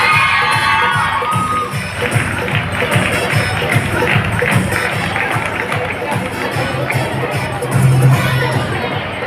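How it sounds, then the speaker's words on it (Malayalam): A large audience at a college fine arts fest claps and cheers steadily and loudly, with crowd noise and shouting throughout and a voice briefly audible over the din. "നിറഞ്ഞ കയ്യടികളോട് കൂടിയിട്ട് നമുക്ക് സ്വാഗതം ചെയ്യാം"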